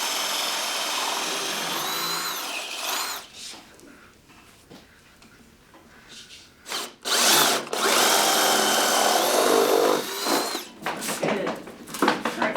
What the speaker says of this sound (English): up in that corner is where we're gonna drill our hole to tap into the utility room